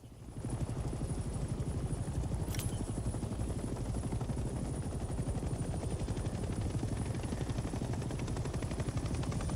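Helicopter in the Vietnam-era game Hell Let Loose, its rotor beating in a steady rapid chop with a dense engine roar, loud and continuous throughout, with a brief sharp high tone near the start.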